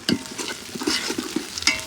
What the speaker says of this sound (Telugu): దాని తర్వాత అల్లం వెల్లుల్లి పేస్ట్ చేసుకోవాలా. స్పీడ్గా తిప్పు.